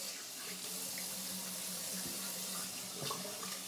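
Tap water runs steadily into a sink, used to wet a shaving soap lather face, a continuous close splashing stream that stays even throughout with no talk.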